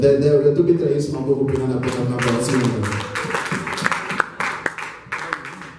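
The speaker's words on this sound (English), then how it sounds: "Let's give a round of applause for the Lord right there." Church audience applause during a bilingual sermon, scattered claps building after the preacher's voice, uneven and moderately close, then tapering to a few separate hand claps.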